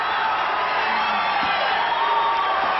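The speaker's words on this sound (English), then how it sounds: "Crowd really enjoying themselves." A boxing crowd at the Benny Urquidez vs Yoshimitsu Tamashiro fight cheers continuously, a dense, loud roar of voices with scattered whoops and shouts throughout.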